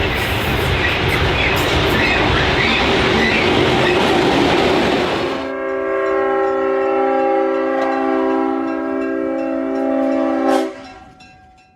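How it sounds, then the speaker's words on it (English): Santa Fe F7 and GP7 diesel locomotives hauling a freight caboose hop off a bridge, first a loud rumbling roll of engines and wheels, then a long chord of air horn blasts that fades out. "AB F7s and a GP7 come off of the eastern end of the bridge with the caboose hop."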